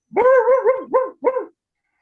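A storyteller's voice imitates a dog barking, giving four close, loud, tonal barks, the first two run together and the last two short and separate, followed by silence.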